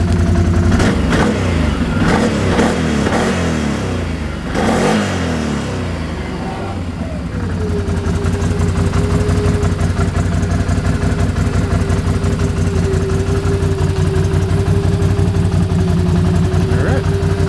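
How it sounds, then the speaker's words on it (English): A 2011 Can-Am Outlander 650 XT-P ATV engine revs in several sharp, loud bursts, then settles into a steady, rough, close idle. "Revs."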